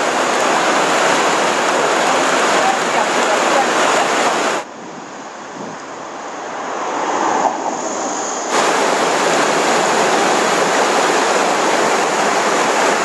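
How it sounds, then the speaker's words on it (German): Floodwater rushes through streets in Hagen, Germany, after heavy rain, a loud, continuous broadband roar. It drops away briefly in the middle and then surges back at full strength. "Wie hier in Hagen verwandelten sich Straßen in reißende Flussläufe."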